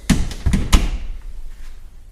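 A door fitted with a Ring home security sensor is pushed shut, giving a few quick knocks and thumps close by before a quieter tail.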